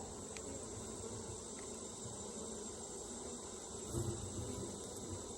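Honey bees hum around an open hive during an August inspection, a soft, steady buzzing drone with a brief swell near the end and no talk over it.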